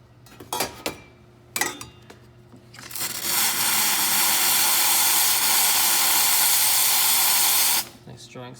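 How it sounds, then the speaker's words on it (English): An espresso machine steam wand blasts a loud, steady hiss of steam for about five seconds, preceded by a few short clicks and bursts, then cuts off. "Nice strong steam pressure,"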